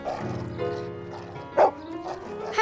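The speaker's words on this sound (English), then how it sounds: "Herbie barked." A cartoon dog barks in a garden scene, sounding a few short yappy bow-wows with one louder bark near the end over light background music.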